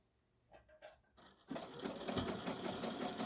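Sewing machine stitching apron fabric, starting up after a few soft handling taps and then running steadily and loudly at close range for the rest of the clip.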